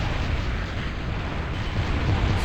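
A tactical nuke missile launched by an Arbitrator unit in the real-time strategy game Total Annihilation Escalation, heard as a steady, loud rumbling blast that roars continuously for a couple of seconds with no voices over it.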